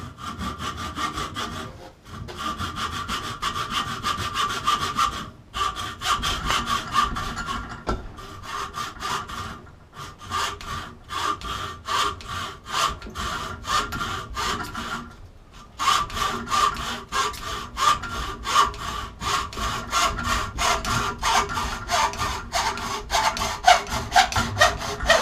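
Hand saw cutting through wood for a wood stove handle, a steady back-and-forth rasping rhythm close up and loud, with a few brief pauses between runs of strokes and no talking.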